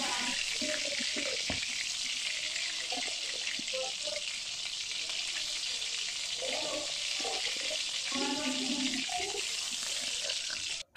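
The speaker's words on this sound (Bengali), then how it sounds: "সবগুলো কোপ্তা এভাবে ভেজে নেব" Chicken kofta balls sizzle in hot oil with a steady, loud hiss that runs throughout, joined by occasional utensil clinks and a few soft words spoken in the background.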